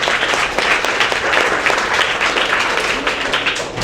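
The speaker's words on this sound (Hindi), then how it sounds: "और ताली बजाएंगे इसके लिए।" A class of seventh-grade children claps together in a classroom, a dense, steady burst of applause that holds loud and even for several seconds with no talking over it.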